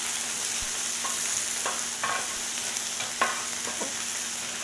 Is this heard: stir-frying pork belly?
yes